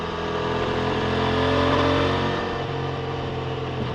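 Engine of a 2025 CFMoto 800 MT-X motorcycle on the road, a steady, loud mid-range drone with slight swells in revs, close and continuous with wind noise.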